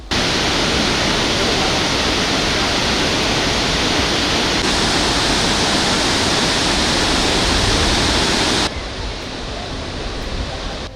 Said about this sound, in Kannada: ಭರಚುಕ್ಕಿ ಜಲಪಾತ ಬಂಡೆಗಳ ನಡುವೆ ಭೋರ್ಗರೆದು ಹಾಲ್ನೊರೆಯಂತೆ ಹರಿದು ಬರುತ್ತಿದೆ